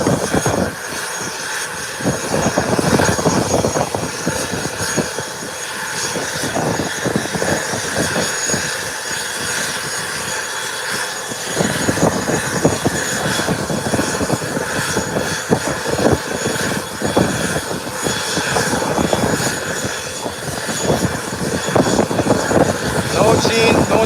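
ATR 72 turboprop at an airport, a broad continuous engine drone with rumbling texture, fairly loud and steady throughout, with voices talking over it.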